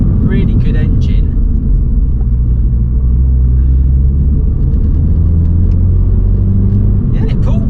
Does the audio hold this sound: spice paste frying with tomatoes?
no